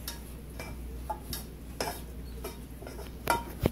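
Spicy red noodles stirred in a pan, utensils scraping and clinking against the metal in scattered taps and brief scrapes, fairly close, with no talk.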